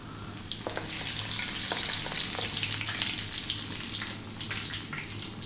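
Curry leaves hit hot oil with black mustard seeds and star anise over high heat for a Chettinad chicken pepper fry, giving a steady, close sizzle with sharp crackles and pops throughout.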